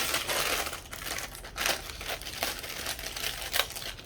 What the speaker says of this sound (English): a bit of crumpling and crinkling of Lego pieces